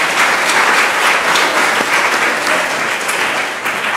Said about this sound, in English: Please give Thenjiwe McHarris a round of applause.